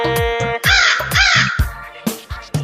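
A crow caws loudly over and over in a quick, uneven rhythm, each harsh call close and prominent, opening a Saraswati Puja song.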